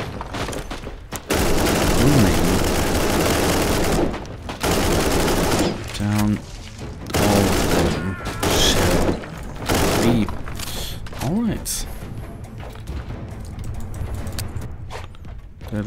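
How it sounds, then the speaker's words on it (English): Gunfire and a grenade explosion in the video game Warhammer 40,000: Inquisitor - Martyr, with dense bursts of rapid shots, booms and mechanical clanks coming in waves across the whole stretch, loud and close-sounding. "That was a good grenade hit there, I think."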